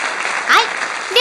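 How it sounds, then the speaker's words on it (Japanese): Audience applause breaks out at the opening ceremony of a Touhou-themed M-1 Grand Prix manzai comedy contest, a short burst of clapping under an announcer's voice. "拍手。"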